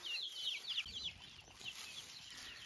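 Several chickens cluck and chatter close by while being fed leftover spicy hotpot scraps at a rural home, with short high calls repeating over a steady outdoor background.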